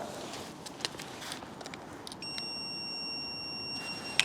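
A multimeter sounds a steady continuity beep while testing a fuse holder on a commercial electrical site, a thin sustained tone starting partway through and holding to the end over faint background hiss.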